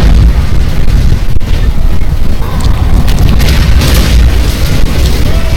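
Loud booming cannon explosions in the video game Total War: Warhammer roll continuously over a heavy rumbling battle din, with a few sharper bursts standing out near the end.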